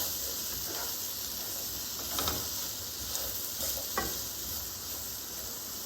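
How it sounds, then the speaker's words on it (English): Chenna roasting in an oiled pan, stirred with a spatula: a steady soft sizzle with a few scraping strokes and light clatters standing out, close and fairly quiet, no voices. "So after 5 minutes, see, slowly it's getting roasted from this. Just stir it."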